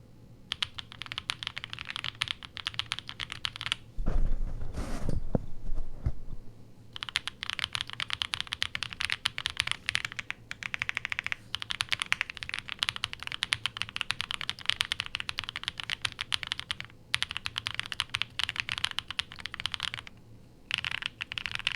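Steady bursts of typing on a Pixelspace Capsule, a gasket-mounted aluminium mechanical keyboard, with a round rattle to the keystrokes, close and clear, broken by a short pause with one louder clatter.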